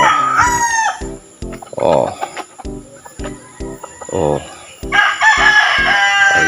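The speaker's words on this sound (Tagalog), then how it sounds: "Mga manok." Loud, close crowing from roosters mixed with clucking chickens, several calls overlapping in quick succession, in a rural countryside setting.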